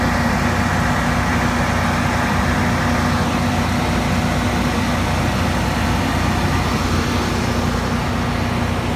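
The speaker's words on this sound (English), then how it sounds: "what does the generator sound like?" A Honeywell 22kW automatic standby generator runs at a steady, loud engine drone with a constant low hum, close by and unchanging throughout with no talk.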